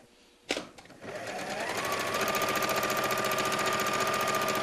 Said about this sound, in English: I can sew all the way to the raw edge here